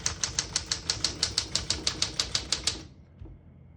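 Rapid, even keystrokes on a 1968 Smith-Corona Super Sterling portable typewriter, about a dozen crisp close clacks in steady rhythm, then stopping, with a faint mechanical thunk afterward.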